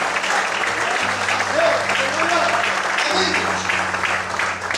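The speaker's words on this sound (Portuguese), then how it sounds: "Você pode aplaudir o Senhor?" A church congregation applauds at length, steady loud clapping throughout with a low sustained organ or keyboard chord underneath.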